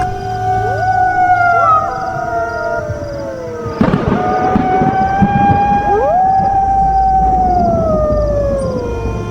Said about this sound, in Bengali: শিয়ালের ডাক।